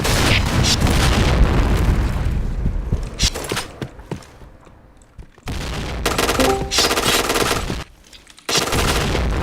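A grenade explosion and bursts of gunfire ring out in a video game shooter: loud, dense blasts and rapid shots fill most of the stretch, broken by two brief quieter gaps before the firing resumes.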